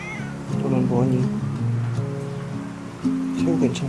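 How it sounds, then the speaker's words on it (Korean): Several cats meowing close by, arriving at lodging in Thailand, with drawn-out wavering calls repeating over a few seconds and steady background noise; people talk at moments. "태국엔 참 고양이가 많아."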